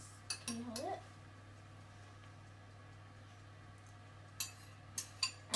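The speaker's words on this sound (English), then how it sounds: "you can use a spoon to scrape everything" A spoon scrapes chocolate cupcake batter from a bowl in a few short, quiet scrapes and clinks near the start and end, with a brief voice early on.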